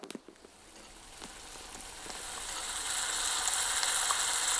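A vinegar pickle mixture for lemon and date pickle bubbles and sizzles in a pan, starting with a few clicks and gradually growing into a steady, hissing boil.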